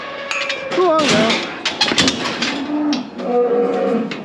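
A young cow moos loudly and nearby on a farm with cows and calves, with several drawn-out lowing calls mixed with clanking metal and people talking.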